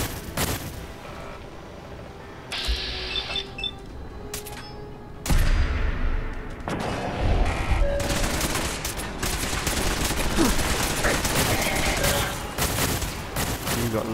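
Automatic turret gunfire in the Fallout 4 video game, dense rapid bursts and blasts running almost continuously and loudly, with heavier booms midway and other game sounds mixed in.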